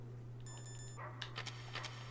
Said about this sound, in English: Hey, look, dogs.